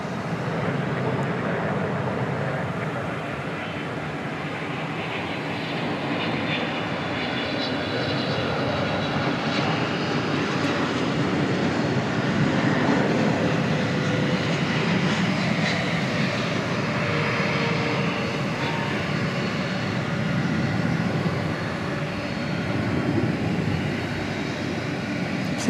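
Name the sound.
Boeing 777 airliner passing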